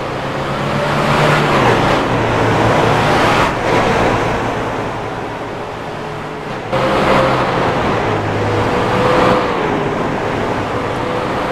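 Race cars lap the Bristol track in a steady loud roar, engines droning and shifting pitch as cars pass close by in continuous traffic.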